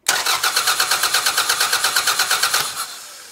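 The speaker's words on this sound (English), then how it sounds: "Now I'm just gonna crank the engine." A car engine cranks over on the starter during an ignition coil test on an engine that turns over but will not start, giving a fast, even chugging rhythm for nearly three seconds before it stops. The sound is close and loud, with no voices.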